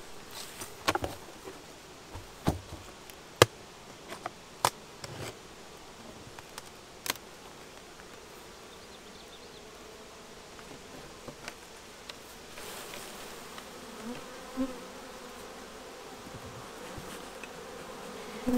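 A steady hum of many bees buzzing, with occasional individual insects zipping close by the microphone, continuous and unbroken with no voices.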